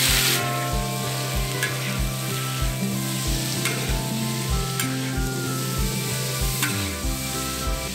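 Shrimp frying on a discada cooking disc gives a loud, continuous sizzle. A steady rhythmic thumping beat, like music, plays underneath the whole time.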